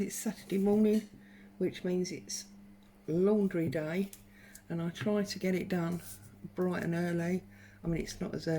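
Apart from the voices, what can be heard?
None of the usual background noises is heard.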